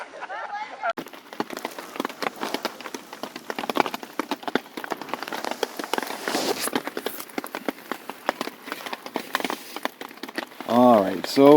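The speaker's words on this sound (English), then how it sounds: "the rain has basically chased everybody to bed." Steady rain patters densely on a surface outside a hammock during a camping trip near a lake, a continuous close hiss with brief louder bursts and faint voice-like sounds near the end.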